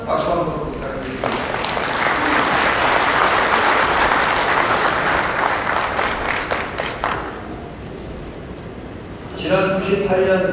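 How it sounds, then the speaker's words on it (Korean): An audience at an inauguration ceremony for a federation president breaks into loud, sustained applause that swells, holds for several seconds and tapers off before a voice resumes over a microphone. "다시 한번 박수 한번 부탁드립니다."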